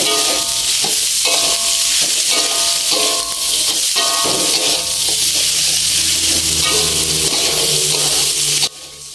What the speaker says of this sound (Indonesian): Diaduk terus sampai nanti bumbu-bumbunya itu layu, dan setelah itu langsung kita masukin buncisnya ya.